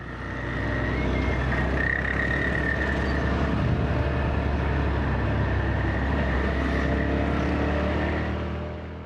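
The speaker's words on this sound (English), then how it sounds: "and of course it's the tuk-tuk." A small four-seater tuk-tuk auto rickshaw engine runs in traffic, a steady, loud, close mechanical drone that holds throughout and fades slightly at the end.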